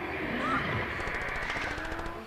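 Gunfire in a Stranger Things episode, rapid repeated shots over a dense, loud action soundtrack, with voices faintly mixed beneath.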